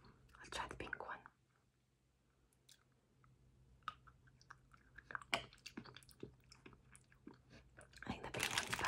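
Soft wet chewing and mouth sounds from Nerds Rope candy, close-miked, with a whisper near the start and another at the end between quiet crunchy bites.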